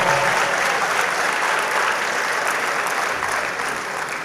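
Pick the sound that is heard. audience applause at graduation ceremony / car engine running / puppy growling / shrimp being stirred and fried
audience applause at graduation ceremony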